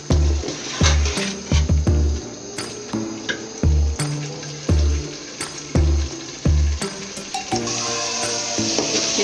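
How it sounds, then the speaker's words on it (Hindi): Chickpeas fry in spices and yogurt, giving a continuous sizzle broken by repeated scraping and stirring knocks of a spoon against the pan. "ये देखें मसालों में और दही में ये चने अच्छे से भुन चुके हैं"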